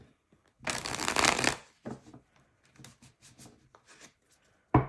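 Tarot cards are shuffled in one loud burst of riffling, followed by softer scattered card handling and light taps.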